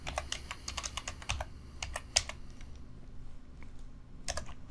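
Rapid clicking keystrokes on a computer keyboard while a password is typed in, with bursts of quick taps, a short lull, then more typing, close and steady over a low hum.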